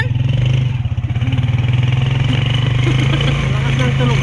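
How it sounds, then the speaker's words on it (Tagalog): Tricycle engine revving steadily, a loud rattling motorcycle-type motor with a rapid pulsing throb that rises and settles, close by, while people talk over it. "Lakas ng tunog niya kasi tricycle na naman."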